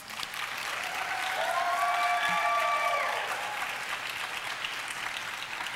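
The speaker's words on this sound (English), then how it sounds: "Let's give those folks a round of applause." An audience applauds in a steady, moderate wash of clapping, with a brief whistle-like tone around the middle before the clapping carries on.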